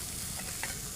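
Fish frying in hot oil in a home village kitchen, a brief, steady hiss of sizzling with small crackles, close and moderately quiet.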